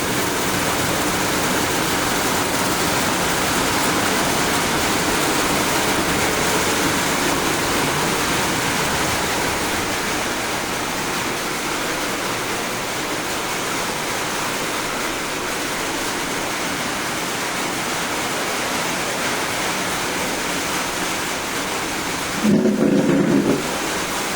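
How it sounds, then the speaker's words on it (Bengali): Heavy rain pours in a dense, steady roar under cloudy skies during the rainy season, loud and unbroken with no voices, and a brief louder burst near the end. "চারিদিকে মেঘ করে আছে, মেঘের গর্জন"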